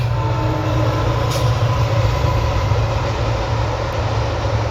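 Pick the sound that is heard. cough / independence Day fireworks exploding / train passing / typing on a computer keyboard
train passing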